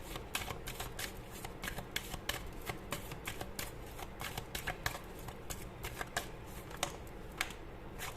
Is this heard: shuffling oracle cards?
yes